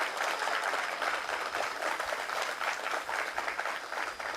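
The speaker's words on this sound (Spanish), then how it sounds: "que se oiga el aplauso a la jefa de gobierno" A crowd at the opening of a water treatment plant applauds the head of government, steady vigorous clapping from many hands lasting several seconds with no voices on top.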